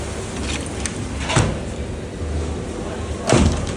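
A door bangs shut in a restaurant kitchen at a resort hotel, two short thuds standing out against steady kitchen background noise.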